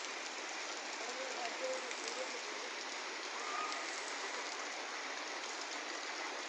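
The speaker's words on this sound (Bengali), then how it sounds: "এটা হচ্ছে মিরপুর 10-এ বৃষ্টি পড়তেছে।" Steady rain falls on shops and streets at Mirpur 10, a constant even hiss of drops hitting surfaces, with no voices over it.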